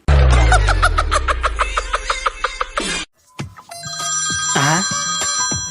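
A telephone rings with a rapid trilling bell in repeated bursts, loud and close, then stops; afterward a person speaks and laughs briefly amid a steady electronic tone.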